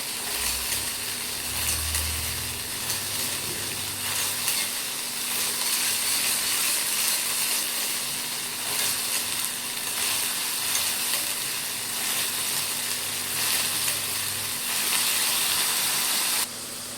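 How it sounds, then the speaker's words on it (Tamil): Green turkey berries frying in a pan, a steady bright sizzle that runs on evenly, with a low hum underneath and a brief stir near the start. "வறுத்து எடுத்துக்கணும். தோல் ஒரு மாதிரி வெள்ளையாக மாறும்."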